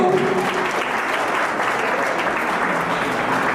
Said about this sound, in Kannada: ನಿಮ್ಮೆಲ್ಲರ ಜೋರಾದ ಚಪ್ಪಾಳೆ ಬರಬೇಕು